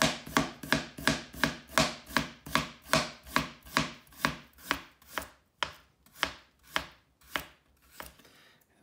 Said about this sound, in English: just slice it nice and thin